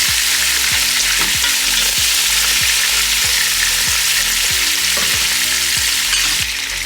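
Shrimp frying in a pan while fried rice is being made, a loud steady sizzle with regular scraping stir strokes roughly every half second, close and continuous with no talk.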